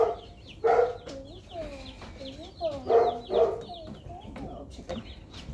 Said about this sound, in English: These are going to be, these are meat chickens.